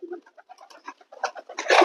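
A pigeon, held in the hand for inspection, gives a few soft, close coos in short broken bursts, ending in a louder rustling flurry as it is handled.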